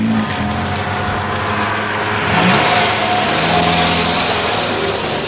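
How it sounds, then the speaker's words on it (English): A car drives along a street in Madrid, its engine loud and close with a steady droning roar. The sound swells briefly around the midpoint as the car passes, then continues under general traffic noise. No one speaks. "Here's another wretched car."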